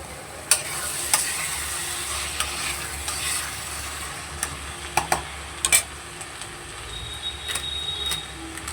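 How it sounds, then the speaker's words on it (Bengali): Onions sautéing in a pan for a fish-head curry give a steady low sizzle, with scattered stirring clicks and scrapes of a spoon against the pan, close by with no talk. "পেঁয়াজটাকে দিয়ে আগে ভালো করে একটু কষিয়ে নেব যাতে পেঁয়াজের গন্ধটা চলে যায়।"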